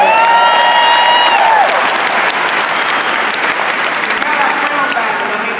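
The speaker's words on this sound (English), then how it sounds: "Let's give him a big round of applause." An audience applauds Mr. Raul with loud, sustained clapping that starts over a brief voice and gradually eases.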